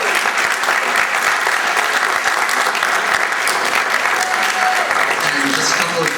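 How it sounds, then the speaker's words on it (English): A student body presidential debate crowd applauds the candidates, a dense, steady roar of clapping hands that continues without pause. "Let's give once again a round of applause and thanks to all of our candidates here."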